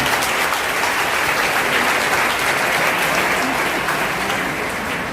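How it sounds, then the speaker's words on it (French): An audience at a road-safety pastoral gathering claps steadily and densely throughout, a sustained even wash of applause with no voices standing out. "Est-ce qu'on peut les applaudir pour ce travail?"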